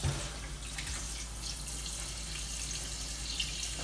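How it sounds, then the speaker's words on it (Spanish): Water runs steadily from a kitchen tap into a pot holding tripe, a continuous hissing gush with no talk. "Le vamos a echar agua."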